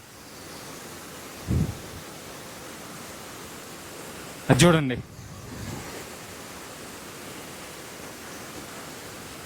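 Steady broadband rushing of water from Sitarkund waterfall fills the background evenly, heard from some distance, with two short spoken bursts breaking through.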